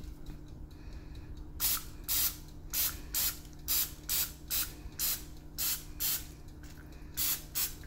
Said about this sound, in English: let's go ahead and hit them up with the spray.